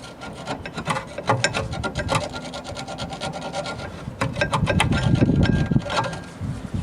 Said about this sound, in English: You can use just a simple screwdriver just to get the rust off, all the crud.